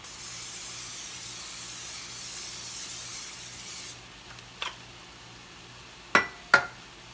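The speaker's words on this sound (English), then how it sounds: "You want to spray your casserole dish pretty good." Cooking spray hisses steadily from a can into a casserole dish for about four seconds, and a few sharp clinks follow once it stops.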